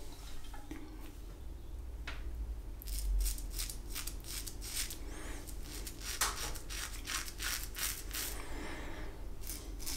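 A Muhle R41 open-comb safety razor fitted with a Feather blade scrapes through beard stubble in a rapid series of short, crisp rasping strokes, heard up close and alone.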